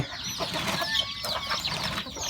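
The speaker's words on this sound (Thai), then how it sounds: "เบิงไก่ครับเบิงไก่" Chickens cluck and chatter in a short, busy stretch at a farm animal pen, with several overlapping calls at moderate distance.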